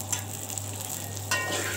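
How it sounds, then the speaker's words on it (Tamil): Brinjal sautéing in oil over a low flame for a Tamil stuffed-brinjal kulambu gives a soft, steady sizzle up close, with a brief louder flare near the end and no talking. "இப்படி சிம்மிலே வச்சு கொஞ்சம் நல்லா வதக்கி விடாங்க"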